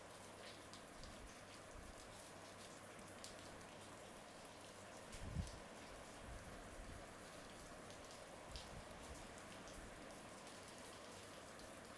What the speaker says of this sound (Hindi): इधर बारिश शुरू हो गई है।